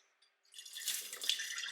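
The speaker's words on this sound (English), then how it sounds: "I'm gonna put fresh water in it, give it a little shake, and then drain." Fresh water pours from a tap into a sprouting jar held over a kitchen sink, a steady broadband splashing that starts after a brief quiet and runs on at moderate, close level with no talk.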